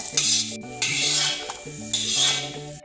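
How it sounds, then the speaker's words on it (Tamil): Perandai leaves are sautéed in a pan and stirred, with close scraping strokes of a utensil against the metal in a repeating rhythm over a soft sizzle, and no one speaks. "நல்லா வதக்கிடும்"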